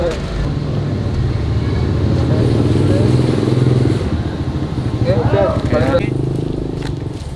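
A motorcycle engine drones steadily nearby at a telecommunication tower survey site during drone setup, with people talking over the continuous rumble.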